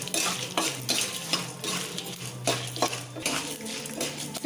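Dried red chillies and peanuts scraped and stirred in a frying pan, a spoon clattering against metal in repeated strokes over a low sizzle, close and fairly loud with no talking.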